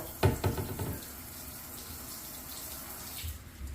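Water runs from hot and cold taps during a plumbing leak check, a steady close rush after a few knocks and handling noises at the start.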